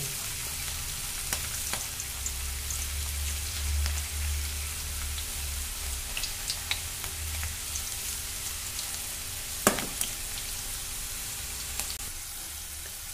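Okra kurkuri frying in oil over a low gas flame, giving a steady soft sizzle and crackle throughout with occasional sharper pops and one louder clatter near the end, no voices.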